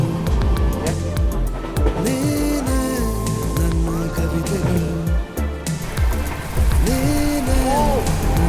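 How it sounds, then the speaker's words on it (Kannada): Torrential monsoon rain at Murudeshwar on coastal Karnataka, heard from a moving train, pours as a dense continuous wash, loud throughout, with voices and tonal sounds layered over it. "ಮುರುಡೇಶ್ವರದಾಗ ಧಾರಾಕಾರ ಮಳೆ ಆಗದ ನೋಡ್ರಿ ಇಲ್ಲಿ."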